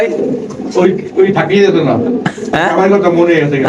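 Pigeons at a pigeon seller's coo in repeated, throaty rolls close by, mixed with a voice talking over them.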